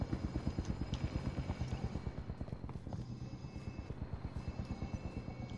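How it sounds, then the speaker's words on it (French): A helicopter arrives in the video game Call of Duty: Modern Warfare, its rotor beating in a steady, rapid chop that holds through the whole stretch at moderate loudness with faint background clatter. "On vous envoie un hélico."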